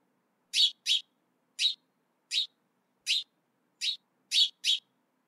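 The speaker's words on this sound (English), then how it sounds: "Birds sing." A bird chirps in short, sharp tweets, eight of them spaced irregularly, some in quick pairs, clear against silence.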